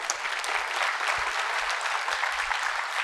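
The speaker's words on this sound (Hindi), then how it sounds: "एक बार फिर से जोरदार तालियां" Loud, dense audience applause fills the hall at a literary festival interview event, steady and sustained throughout with no voices on top.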